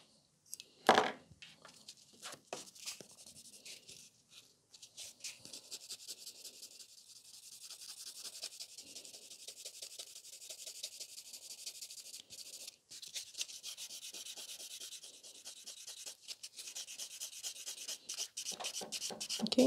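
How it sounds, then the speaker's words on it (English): A gel nail tip is buffed with short, quick rubbing strokes, a soft dry scratchy rasp close to the microphone, with a sharper tap near the start and steady brushing continuing throughout. "So this tip is curing, and we can buff another tip."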